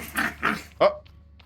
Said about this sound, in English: I've been hit by a rabid dog, oh no!